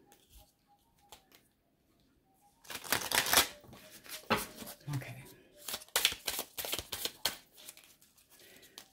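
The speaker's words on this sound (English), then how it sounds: "Two shuffles." Playing cards are riffled and shuffled in several quick, crisp bursts up close, with a few soft taps between.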